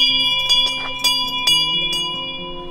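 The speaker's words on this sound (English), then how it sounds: "Now, to honour him, I'm going to ring the bell to signify the end of each marathon." An old fisherman's bell rung by hand with several clanging strikes about half a second apart, each leaving long, overlapping metallic ringing that fades slowly; no one speaks.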